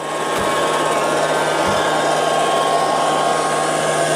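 A Liectroux B3000 robot vacuum cleaner runs with a loud, steady whirring motor hum close by, holding an even tone for the whole stretch.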